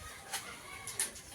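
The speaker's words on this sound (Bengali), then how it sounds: "23টা মুরগি বাচ্চার সঙ্গে 6টা হাঁস" A few brief, high chick peeps and soft clucks sound close by from a brood of 23 chicks kept with six ducklings in a rain-soaked farmyard shelter, spaced irregularly over a faint steady background.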